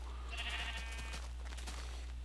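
A sheep in the video game Minecraft lets out one wavering bleat early on, fairly faint over a constant low hum and soft background game noise.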